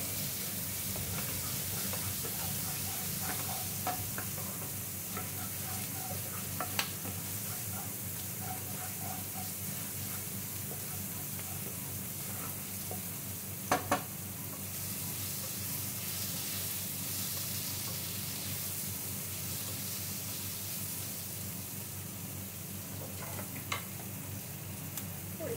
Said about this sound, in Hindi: गार्लिक को भी ऐसे रोस्ट कर लेंगे, हल्का सा भून भी लेंगे